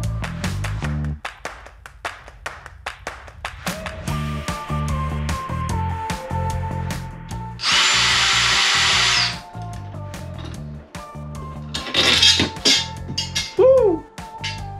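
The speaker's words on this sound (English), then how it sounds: "I'm gonna use the drill though." A power drill drives a 5/16 nut while work is done on an RV air-conditioning unit. It gives repeated short bursts of whirring and clicking, then one long high whine, with some knocks and clatter close by.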